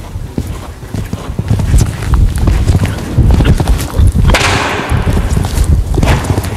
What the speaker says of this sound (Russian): Лошадь у меня быстрая, убегает.